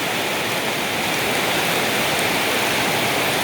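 A steady, loud roar of heavy rain comes down over a rural work area beside green rice fields, broadband and unbroken from start to finish, with no talking.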